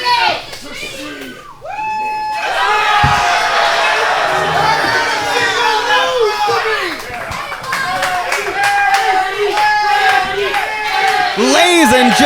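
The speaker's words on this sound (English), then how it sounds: "listen to that crowd chant for the Freaky Frog himself" A wrestling event crowd in California roaring and chanting loudly and continuously in a large venue, with shouts and cheers rising over the din.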